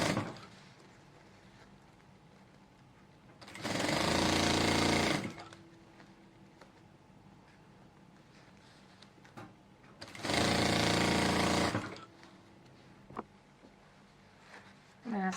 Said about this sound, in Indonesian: Nah, sekarang kita jahit lingkaran luar dari layer gaun, layer sekaligus lengan gaun.